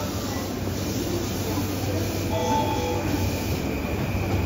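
Steady rumble of a Chuo-Sobu Line local train at Shinjuku Station, Tokyo, a low drone with a faint squeal of wheels running through it, and a muffled Japanese platform announcement in the background.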